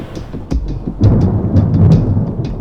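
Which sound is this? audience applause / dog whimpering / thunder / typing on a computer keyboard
thunder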